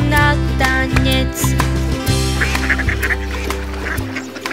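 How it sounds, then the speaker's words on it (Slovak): A drake duck quacking, close and loud: a few rhythmic honking quacks over steady children's song music with regular beats, no speech heard. "Toto je náš káčer."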